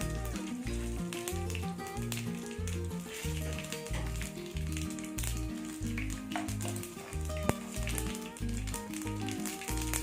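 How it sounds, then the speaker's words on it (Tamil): Mustard seeds crackle and pop steadily in hot oil while tempering for peanut chutney, a dense continuous sizzle with sharp spitting bursts throughout, close and fairly loud. "கடுகு பொரிஞ்சிருச்சு கருவேப்பிலையை போட்டுருவோம்"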